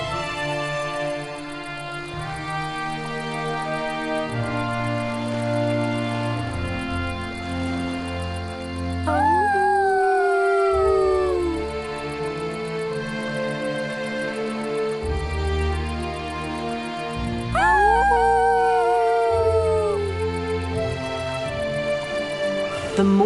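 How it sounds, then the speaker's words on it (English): A cartoon dinosaur and a dog howl together at the stars, two rising-and-falling howls about eight seconds apart over soft, continuous background music. "He and Spot looked up at the stars and howled together."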